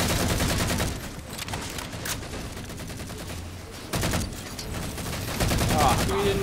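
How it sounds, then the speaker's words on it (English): Grenade blast in Halo 4 Big Team Infinity Slayer multiplayer, mixed into a dense, constant barrage of game gunfire, with sharp bursts standing out near the middle and end and brief talk underneath. "That was a grenade."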